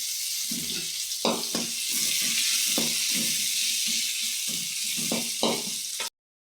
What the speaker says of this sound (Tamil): வெங்காயம் வதங்கிக்குது.